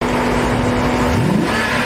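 Big-engined American rally car at the Django Rally 2024, revving loudly and close with a rising engine pitch and a steady hum beneath, no talking.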